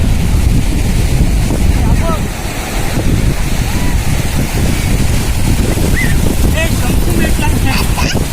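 Waves wash up on Vetye Beach on the Konkan coast near Ratnagiri, a loud, continuous rushing surf mixed with heavy wind buffeting the microphone, while voices call out faintly.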